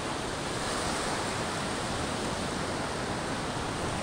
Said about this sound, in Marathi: लाटा जशा जशा पास येतात